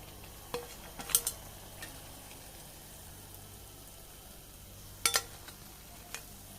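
Batter-dipped potato snacks frying in hot oil, a faint steady sizzle with a few sharp clinks of a utensil against the pan, quiet and close with no talk.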